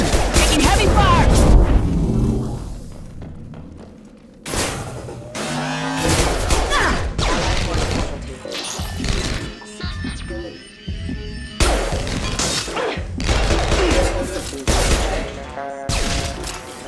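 Bursts of gunfire crackle in Mass Effect Legendary Edition, loud sharp volleys coming in clusters with short pauses between them, mixed with a low hum and scattered voices talking.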